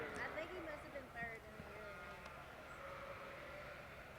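Sheep bleating in a livestock show ring during a Get of Sire class, four sheep from one ram shown by the same exhibitor, with wavering cries rising over a murmuring crowd and a voice talking throughout.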